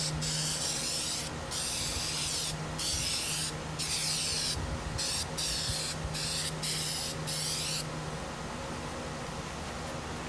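Plasti Dip coating sprayed from an aerosol can onto a Buell XB9SX motorcycle tank cover, with close, loud hissing in repeated bursts separated by brief gaps.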